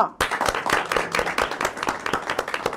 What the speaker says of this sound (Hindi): उन कमेंट्स करने वालों के लिए भी तालियां